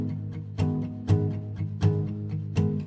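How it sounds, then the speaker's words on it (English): Acoustic guitar strummed downward in a steady, even beat, four full chord strokes ringing out alone, each hit sharp and bright. "So with the down strums, it's going to sound like this:"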